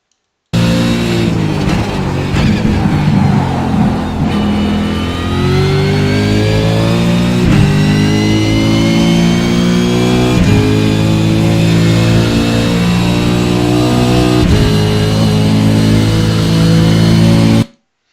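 Race car engine at Bathurst, loud and close, holding a steady high drone while the pitch climbs and dips through gear changes as the car brakes into a second-gear corner and powers out along the track.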